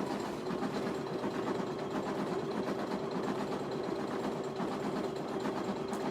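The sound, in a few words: embroidery machine stitching an appliqué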